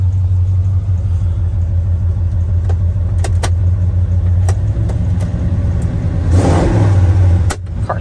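A 1967 Chevrolet Chevelle SS396 engine idles with a deep, steady, loud rumble, close up, briefly swelling as it is revved near the end, with a few light clicks and jangles over it.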